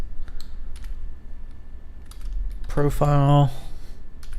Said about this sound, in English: we're going to type in a name here